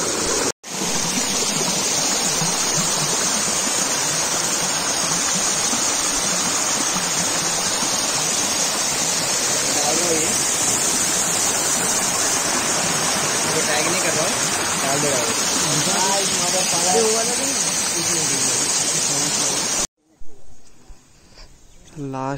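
Steady, loud waterfall roar on a mountain trek, a dense continuous rush of falling water close by that fills the whole scene and then cuts off abruptly near the end.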